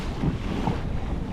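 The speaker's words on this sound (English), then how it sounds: "But when you're hitting waves like this," A Titanx 12.5 pedal drive kayak pushes through waves on open water, a constant rushing wash of water and wind buffeting the microphone, loud and close with no voices.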